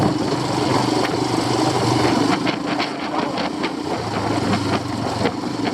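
A Royal Enfield Himalayan motorcycle engine runs steadily at low revs in first gear, a close, throaty thrum that rises slightly as the throttle rolls on and off, with no talking.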